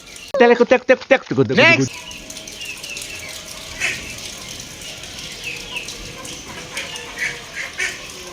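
Ducks quack and wings flap in a short burst at the start, then softer rustling and occasional calls continue in the background.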